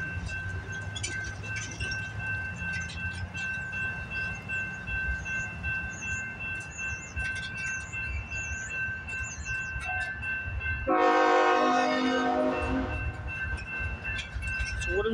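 CN freight train passing on the line, steady rumble and rolling clatter, with a loud horn blast toward the end, heard alone without talk.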